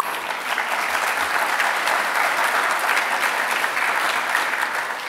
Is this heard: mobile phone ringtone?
no